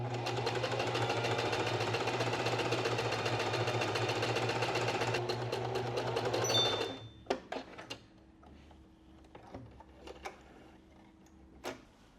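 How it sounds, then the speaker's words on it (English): A sewing machine runs a basting stitch along the top of a sleeve, a fast, steady mechanical whir close up for about seven seconds before stopping, followed by scattered quiet handling clicks. "I need to do a basting stitch, which would just kind of be over the top part of the sleeve."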